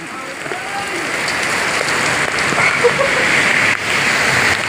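Steady hiss of rain pouring down, loud and close, with a voice talking underneath the downpour.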